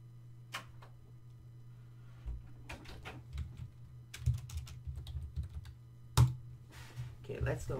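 Soft clicking of computer keyboard keys typed in irregular bursts during a Minecraft Skywars game, fairly close, over a low steady hum, with a few louder taps.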